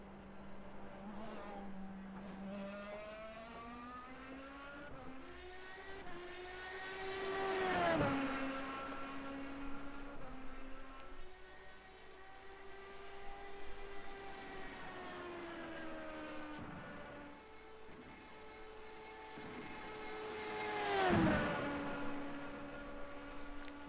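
Race car engine in the iRacing simulator heard from an exterior camera, a faint buzzy four-cylinder-like tone rising and falling through gear changes, with two louder close pass-by swells and no talk.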